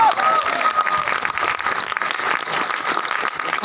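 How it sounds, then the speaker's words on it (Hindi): An audience at a business training session in Guwahati claps loudly and continuously for a few seconds, a dense roomful of hands with a faint tone ringing briefly early on. "उसके लिए जोरदार तालियां हो जाए"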